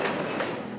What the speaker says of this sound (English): To others, it's the train of death.